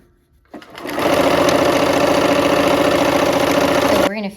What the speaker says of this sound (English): I like to sew from the squared off corner